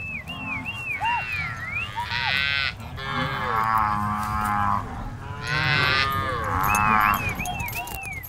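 Cattle low repeatedly across the open Venezuelan Llanos plains, long drawn-out moos rising and falling, some close and loud, others farther off, forming a continuous chorus of livestock calls.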